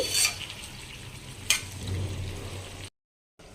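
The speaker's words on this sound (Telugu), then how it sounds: "నూనెలో ఒకసారి బాగా కలితిప్పుకోవాలి" Stuffed eggplants coated in onion-chili paste are stirred in hot oil with curry leaves, giving a steady sizzle with a sharp scrape or clatter near the start and another at the midpoint, then a brief silence before the frying resumes.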